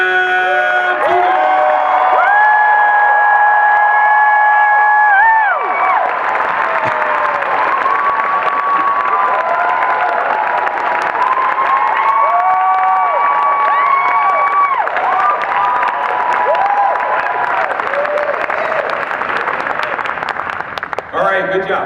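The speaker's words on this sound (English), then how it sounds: "Let's give a nice round of applause" Convention crowd at the DragonCon 30th anniversary cheering, whooping and applauding a guest's arrival, a loud continuous roar with shouts and voices over it throughout.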